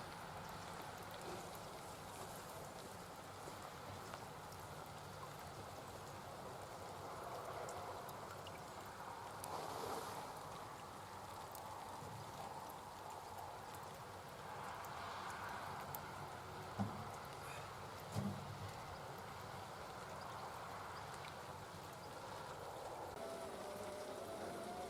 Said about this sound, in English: I told you it didn't stop raining.